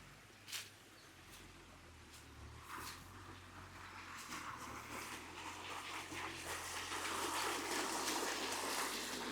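Stream water tumbles and splashes in a steady, rushing flow on a farm, fairly faint at first and swelling gradually louder, with a few brief bird calls near the start.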